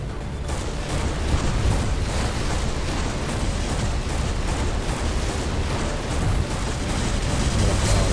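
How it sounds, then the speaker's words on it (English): Rapid, dense flak cannon fire during a boss fight in the space shooter Everspace 2 forms a continuous roaring barrage of booms and crackling blasts at steady loud volume for the whole stretch. "We're gonna head towards them straight away with the flak cannon."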